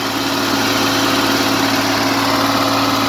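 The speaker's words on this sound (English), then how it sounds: "The engine does run good." A car engine runs at a high idle, lacking its AC compressor, with a steady, loud drone and a continuous mechanical hum that stays level throughout.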